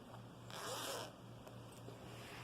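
A zipper on the back of a decorative ruffled cushion cover being pulled open or shut in one sustained rasping run of about half a second, followed by a few faint ticks, close up with no talking.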